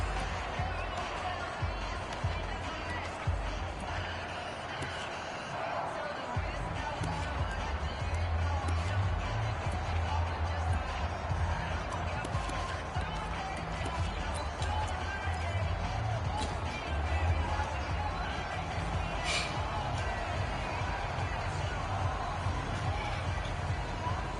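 Stadium crowd roaring steadily in an NFL video game on PS4, a continuous wash of distant cheering and murmur that swells slightly, with commentators talking over it.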